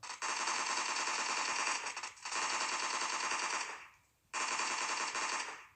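Automatic gunfire in the video game PUBG Lite comes in three long bursts of rapid shots, loud and close, separated by short pauses with no talk.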